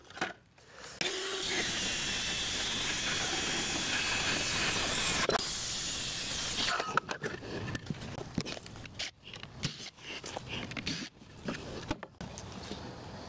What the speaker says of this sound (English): I'm gonna pause for today because the saw is not cutting well.